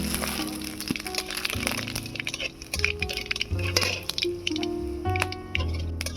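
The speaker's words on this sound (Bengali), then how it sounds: "ফোড়নের জন্য দিচ্ছি একটা শুকনো লঙ্কা, তেজপাতা, কালো জিরে।" Dried red chilli, bay leaf and nigella seeds crackle in hot mustard oil for a tempering, giving sharp, scattered pops and spits close by over a continuous soft sizzle, with tuneful music playing quietly underneath.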